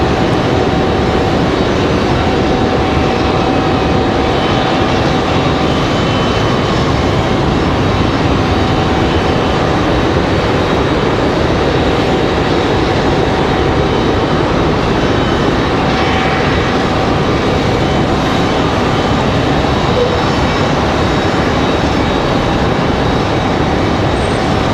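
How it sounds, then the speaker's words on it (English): An Airbus A319 airliner roars continuously at Raleigh Durham airport, a loud, steady broadband engine rumble that holds throughout without a break. "That A319"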